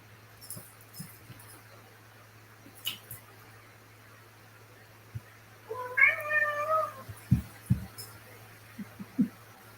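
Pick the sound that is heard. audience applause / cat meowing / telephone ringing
cat meowing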